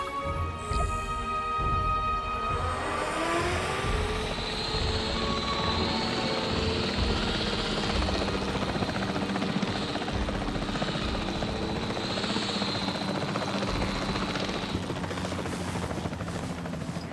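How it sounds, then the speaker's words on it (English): Capture team helicopter in the video game Jurassic World Evolution 3, a loud continuous rotor chop and turbine whine that stays close and steady throughout, with no talk. "The priority needs to be tranquilizing it with the capture team chopper."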